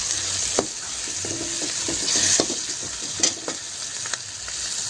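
Steady loud sizzling of spices frying in hot oil over high flame for dal tadka, with occasional stirring scrapes and clinks against the pan.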